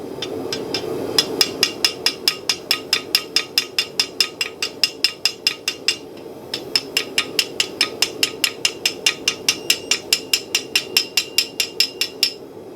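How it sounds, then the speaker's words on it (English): A light hammer taps hot steel against the edge of an anvil in quick, even ringing strikes, about two or three per second, close and bright, with a brief pause midway before the rapid tapping resumes. "We can just kind of tap the material off the edge of the anvil like this."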